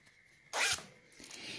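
A common 15 cm clothing zipper is handled, giving one brief, close rasping zip burst followed by faint rustling.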